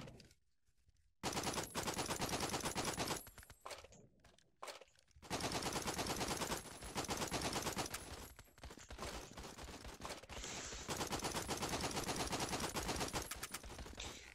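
M16 rifle with a scope in a video game, loud automatic bursts repeating across the stretch with brief pauses between strings of fire.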